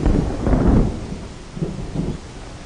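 A deep rumble of thunder swells and rolls, then fades into lower, softer grumbles that trail off alone.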